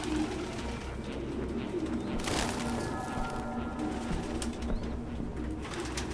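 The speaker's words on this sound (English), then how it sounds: "No human could live with all these fucking pigeons." Pigeons coo and flutter in a cluttered room in the video game Detroit: Become Human, soft repeated coos over a steady low hum and room noise, with a brief louder rustle of movement partway through.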